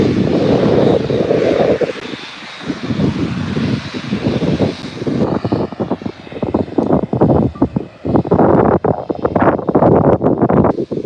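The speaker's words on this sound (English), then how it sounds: "beautiful aircraft, the Dreamliner. Such a beautiful aircraft." A Boeing 787 Dreamliner at Birmingham airport roars loudly with a deep jet engine rumble, buffeted by heavy wind noise on the microphone, with no talk.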